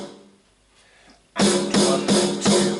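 Snare drum beat from a rock song: after a quiet lead-in, four loud, close, evenly spaced snare-driven hits ring out in steady rhythm, with no talking over them.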